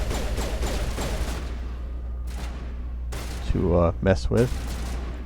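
Gunfire in the sci-fi shooter game Mass Effect: several bursts and heavy blasts, some booming, cut through a steady low engine-like hum, with someone briefly talking over the start.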